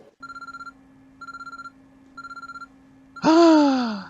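A telephone rings in the video game ChäoS;HEAd with three short trilling electronic rings in a regular pattern over a low steady tone, then a sudden loud startled gasp-like sound.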